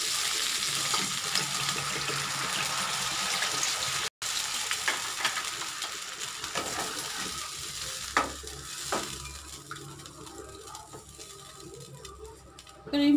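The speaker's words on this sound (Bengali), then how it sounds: "এবার আমি দিয়ে দেবো পরিমাণ মতো জল।" Potatoes and parwal cooking in spices in a pan for a fish curry, with a steady close sizzle and fry as water goes in, then some light stirring clatter and bubbling, and no talk.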